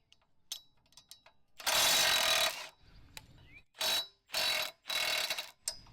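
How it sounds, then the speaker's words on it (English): Parts are unbolted from a Great Dane Super Surfer II mower with a failed weld: a few sharp metallic clicks, then several loud bursts of a power tool buzzing in short runs, separated by pauses, close up. "Now I'm just going to start unbolting all this stuff"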